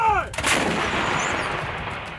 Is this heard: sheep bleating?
no